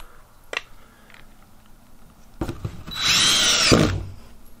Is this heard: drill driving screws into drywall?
yes